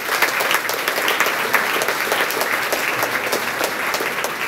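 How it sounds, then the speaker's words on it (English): A crowd at a school awards ceremony gives a steady, dense round of applause honoring the girls basketball team, sustained and even from start to finish with no talking over it. "So let's give a round of applause to girls basketball."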